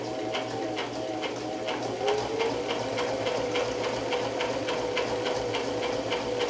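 A sewing machine stitches across opened quilt seams on a beginner rag quilt, with a rapid, even needle rhythm and a steady motor hum, close and moderately loud, with no talking.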